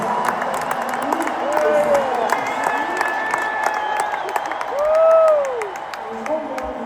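A stand-up comedy audience breaks into sustained applause, a dense crackle of clapping with scattered cheers and whoops that swells briefly toward the end.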